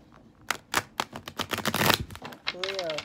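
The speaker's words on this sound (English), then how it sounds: "Let's give it a couple more little shuffles here" A tarot deck being shuffled by hand in a short series of crisp riffling and slapping bursts, close and fairly quiet, with a brief voice and a small tonal warble near the end.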